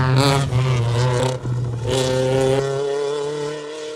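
A Bug Eye rally car at a spectator corner on a forest rally stage, its engine revving hard and passing close while the horn sounds in sustained tonal blasts over the roar.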